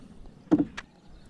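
A pair of quick hollow knocks and a splashy scrape as a small wooden rowboat is shifted in water during crab trapping, then quiet.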